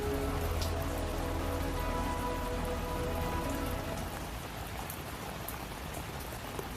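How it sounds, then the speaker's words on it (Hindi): Heavy cartoon rain pours steadily on surfaces near a deserted old mansion, a dense continuous hiss that eases slightly toward the end, with no talk. "बारिश भी तेज थी और भूख की ज्वाला भी बढ़ रही थी।"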